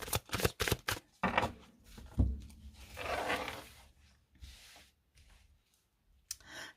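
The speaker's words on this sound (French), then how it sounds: "je vous laisse le temps que je mélange un petit peu les cartes" Tarot cards shuffled by hand in a few quick riffling bursts, crisp papery flutters and taps close up, with quieter rustling between and a pause before a final short flick.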